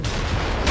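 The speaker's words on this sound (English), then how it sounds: "I'm having a fucking gun battle with this fucking bastard." A single heavy gunshot in Nioh, a loud close boom that sustains briefly before a second burst of noise at the end.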